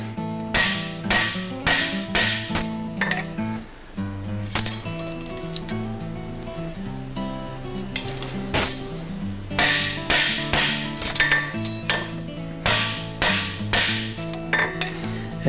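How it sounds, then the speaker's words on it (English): A farrier's hammer strikes a steel horseshoe on an anvil to flatten it for cold shoeing, ringing metallic blows landing in quick irregular runs with brief pauses, close and loud. "Again, flatten the shoe."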